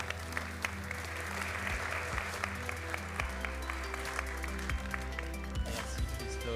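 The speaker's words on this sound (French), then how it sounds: "que vous pouvez applaudir." A conference audience applauds steadily and fairly loudly, a dense wash of clapping that continues throughout with a faint voice underneath.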